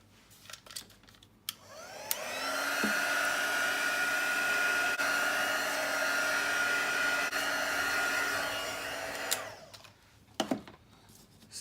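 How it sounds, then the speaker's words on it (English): A heat tool blows hot air to dry stamped craft card, a steady, fairly loud whooshing hum that starts after a few light clicks, runs about seven seconds, then stops, followed by handling taps. "So I might just bring in the heat tool and just heat that up a little bit"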